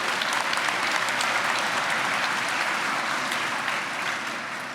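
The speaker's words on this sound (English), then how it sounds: "Give yourself a round of applause for that" Dense, sustained applause from graduating Elon University students fills the space as a loud, even wash of many hands that holds steady and fades slightly at the end.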